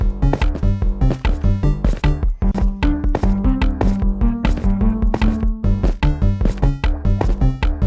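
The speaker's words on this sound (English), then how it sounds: "Delete every note block and go to your keyboard and write a new song and set it to the new song" A Minecraft note block song plays loud and continuous: dense, steady rhythmic plucked tones and percussive hits in a fast repeating dance pattern, with a shifting bass line.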